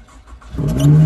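A used car in Japan starting up to warm its engine, a quiet lead-in followed by the engine catching and settling into a loud, steady hum up close.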